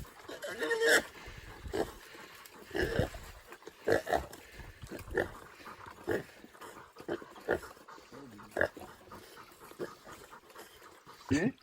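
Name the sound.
wild pig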